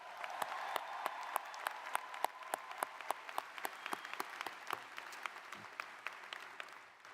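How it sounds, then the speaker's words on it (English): A spring graduation audience gives Supervisor Anderson another round of applause, a thin, steady patter of distinct claps that sounds fairly distant and small-crowd, continuing evenly before tapering at the end. "Let's give Supervisor Anderson another round of applause."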